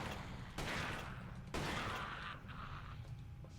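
Rapid gunfire from weapons in the shooter game Resistance: Fall of Man, loud bursts of several shots crackling close by, separated by brief pauses and mechanical clatter, with no voices over it.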